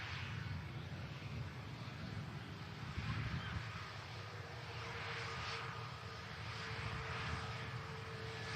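An Egypt Air airliner taxis at Manchester Airport, its engines a broad steady rumble and hiss at moderate distance, fairly faint and continuous throughout, with no talk.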